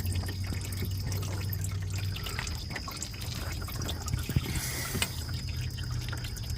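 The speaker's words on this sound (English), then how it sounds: "I can see the coolant coming out from that hole" Coolant leaking from a hole in an engine, a soft close trickle with faint intermittent drips under a steady hum of background noise, no speech.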